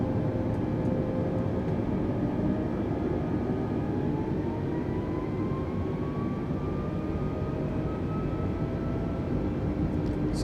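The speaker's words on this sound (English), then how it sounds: "we're gonna go 2 notches of flaps" Steady roar of an Airbus A320neo in Microsoft Flight Simulator 2020 as its flaps extend during descent on an IFR flight, with a slowly rising whine over the continuous loud engine and airflow drone.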